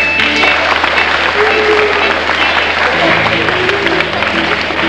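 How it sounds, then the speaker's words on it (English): An audience at a puppet show applauds, a loud dense wash of clapping that holds steady for the whole stretch, with some voices mixed in. "Can you give a nice round of applause for the trees and the moon?"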